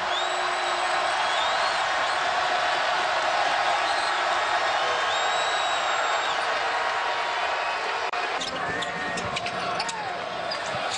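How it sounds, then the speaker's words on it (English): A packed arena crowd roars on senior night at an NCAA men's basketball game, Iowa State at West Virginia, a steady, dense wall of cheering that holds for the whole stretch and thins slightly near the end. "Here comes the crowd."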